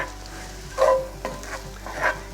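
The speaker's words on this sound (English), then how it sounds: "So give this another stir." Garlic frying in a pan for shakshuka crackles steadily up close while a utensil stirs it, giving a few soft scraping strokes over the low sizzle.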